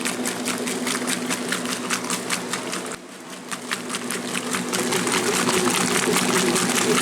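A 1996 Maytag Dependable Care Plus washer runs its quick cycle with a steady mechanical hum and a quick repeating churn of agitation and sloshing water. The sound is continuous and close, with a brief dip partway through.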